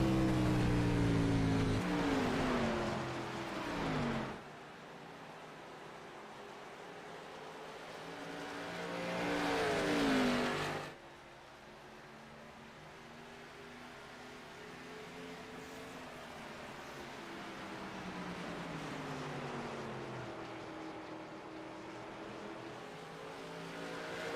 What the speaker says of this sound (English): Back on the gas a little early, so he is finding what it takes to try and catch up to Chapman's bumper.